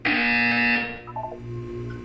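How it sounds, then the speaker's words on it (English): A loud harsh buzzer from the Portal video game blares for about three-quarters of a second, then cuts off, leaving a low electronic hum and faint blips behind it. "You will hear a buzzer."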